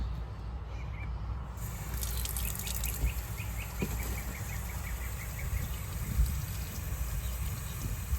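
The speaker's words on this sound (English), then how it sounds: "All right, so I'm gonna water it now." Water is poured into a potted Anthurium radicans x luxurians set in a soilless epiphyte mix, giving a steady soft trickle and patter, with faint birdsong chirping in the background and no talking.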